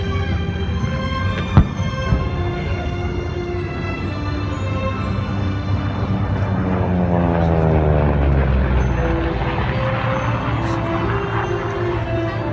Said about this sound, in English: The Spitfire being flown by Warren Beach. The Corsair today piloted by Mike Schiffer